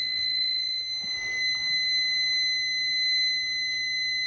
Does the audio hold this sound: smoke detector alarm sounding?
yes